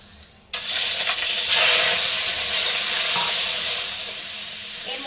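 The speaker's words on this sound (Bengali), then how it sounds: "এবার চিংড়ি মাছটা প্রথমে আমি ভেজে নেবো।" Washed shrimp hit hot oil in a pan with a sudden loud sizzle after a quiet start, then a strong, steady hiss of frying that eases slightly toward the end.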